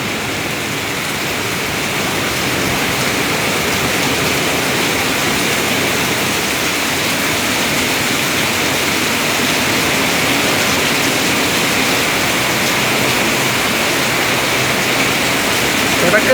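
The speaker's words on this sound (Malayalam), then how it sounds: "ശക്തമായ രീതിയിൽ മഴ എത്തിയിരിക്കുകയാണ്." Heavy rain pours down at Anakkal in Kanjirappally on an April afternoon, a dense, continuous hissing roar of large drops that stays loud and even throughout without a break.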